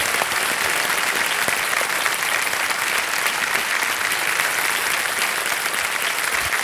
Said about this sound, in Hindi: मैं चाहूंगा कि जोरदार तालियां बज जाएं इनको